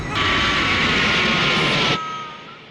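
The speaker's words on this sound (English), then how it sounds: "The plane again." An airplane flies past in the Death Note anime, a loud, steady jet-engine roar that cuts off abruptly and leaves a quieter engine hum trailing behind.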